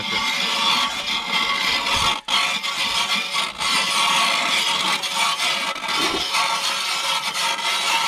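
An ice auger grinds steadily through lake or river ice during a fur-hunting trip in Yakutia, a loud, continuous rasping drone with a couple of momentary breaks.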